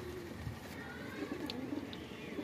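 Rampuri pigeons coo in a soft, continuous low murmur, several birds close by with overlapping throaty calls and a few faint higher chirps, no talking.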